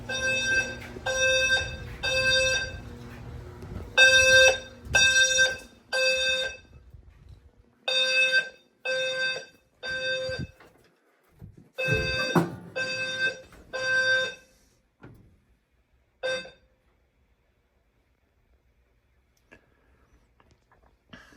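A building fire alarm sounds during routine December testing of the alarm, emergency lighting, generator and UPS systems: a loud electronic horn in repeated bursts, steady at first, then broken into separate blasts, ending in a final short blast and near silence.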